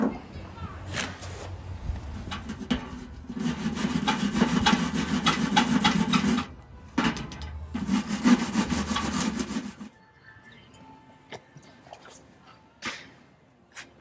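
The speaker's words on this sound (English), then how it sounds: "If I can get the rest of this red paint off, maybe I will save these. Probably a Dremel can get in here and do it." A Dremel wire brush strips red paint from an old tool box in two loud, sustained scrubbing runs separated by a short pause, then gives way to quieter handling noises; a voice can be heard faintly at times.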